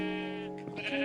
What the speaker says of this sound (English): we have some sheep.